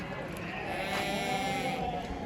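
Lambs bleating among a crowd at a livestock market in Kırşehir, a steady murmur of animal cries and chatter with one brief louder bleat standing out near the middle.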